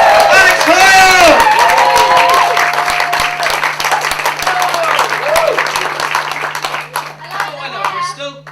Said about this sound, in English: If you can start the clapping and the cheering from the back.